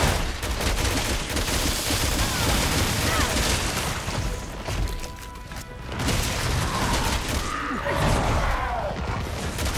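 Gunfire in the video game Resident Evil 6, dense rapid shots and booms with crashes over nearly ten seconds, loud and continuous, with faint game voices in the mix.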